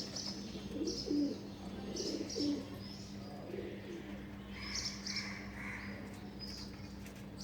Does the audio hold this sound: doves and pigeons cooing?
yes